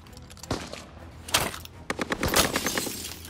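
Gunfire in a Call of Duty: Vanguard bomb-defuse match, with several sharp shots and short bursts going off at irregular intervals, some close and some farther off, amid ambient game noise.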